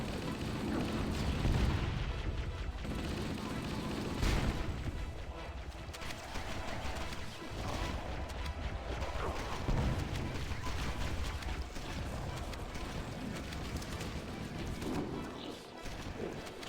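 Rocket launcher blasts and gunfire in the video game Halo, a dense run of loud booms and crashes filling the whole stretch over constant game noise, with a voice speaking at times.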